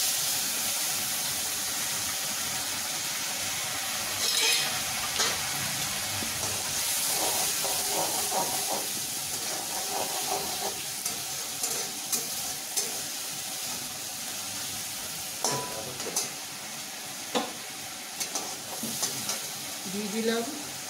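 Ginger, garlic and onion paste fries in hot oil for fish kalia, giving a steady close sizzle and hiss with scattered stirring scrapes and clinks, and a voice now and then.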